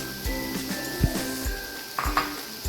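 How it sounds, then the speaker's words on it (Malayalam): A spoon stirs cooked chicken, boiled with salt and pepper, into a masala in a pan, with soft repeated scraping knocks against the metal over a low sizzle, close and fairly quiet. "ഇത് നന്നായിട്ടൊന്ന് ഇളക്കി യോജിപ്പിക്കണം"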